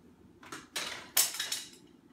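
A few sharp metallic clanks and scrapes of a non-stick frying pan being handled, close by and fairly quiet, in short bursts with pauses between.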